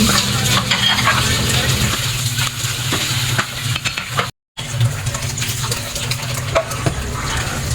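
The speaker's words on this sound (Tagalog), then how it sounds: "Hintayin lang natin kumulo at palambutin ang mga sahog" Binignit with sweet potato and glutinous rice balls bubbles in a pot, a loud, steady close bubbling and stirring texture with scattered clinks and one brief dropout midway, no voices.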